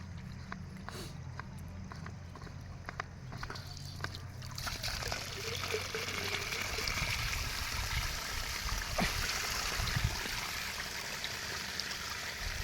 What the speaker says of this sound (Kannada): ಈಗ ಕ್ಯಾಪ್ ತೆಗೆದು ತೋರಿಸ್ತೀನಿ ನಿಮಗೆ ಯಾವ ಥರ ನೀರು ಬರುತ್ತೆ